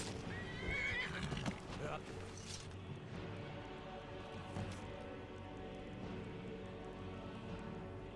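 In the video game Skyrim, a horse gives a loud neigh early on, followed by clip-clopping hooves and clattering sounds, while a voice talks over it.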